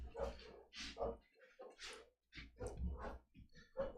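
Several dogs bark outdoors in repeated loud, uneven bursts with some whimpering yips between them, fairly close and with no talk over them.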